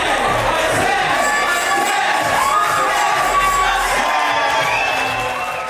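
A college slam poetry crowd roars with cheers, whoops and shouts, loud and sustained, voices rising and falling in pitch over a continuous wall of noise.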